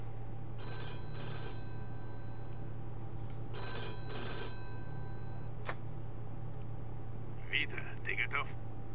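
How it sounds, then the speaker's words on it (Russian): An old-fashioned telephone bell rings in the video game Mafia 2, set in Oyster Bay in 1951. It gives two clear, loud ring bursts a few seconds apart over a constant low hum, followed by faint voices. "Опять телефон."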